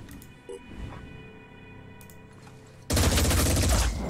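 A loud salvo of gunfire from the turn-based tactics game Phoenix Point bursts in near the end, a dense sustained volley following a stretch of quiet ambient game sound with scattered faint clicks.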